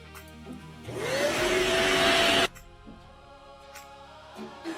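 A household vacuum cleaner switches on with a rising whine and roars steadily for a couple of seconds close by before cutting off abruptly, leaving a quiet room.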